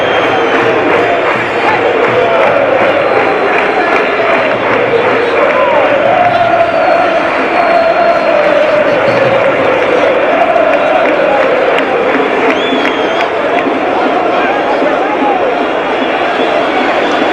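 A Portsmouth home football crowd cheers and applauds during a Championship match against Ipswich, a loud, sustained stadium roar with rhythmic clapping and a rising, falling swell, while a commentator speaks over it.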